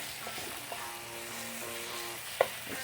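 Chicken and rice sizzle and fry together in a pan, a steady close crackling hiss with a faint hum underneath and one brief sharp tick near the end.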